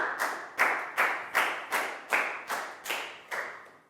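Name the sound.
class applauding a pupil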